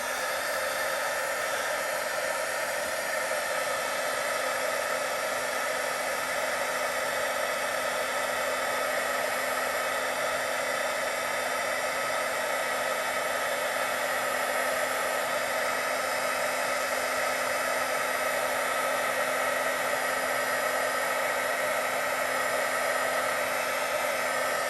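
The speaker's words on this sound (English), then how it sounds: "plug in my heat embossing heat tool, and I'm going to heat this up" A heat embossing tool blows hot air steadily over a vellum card, a loud, even whirring hiss like a small hair dryer that runs unbroken from start to finish with no talking.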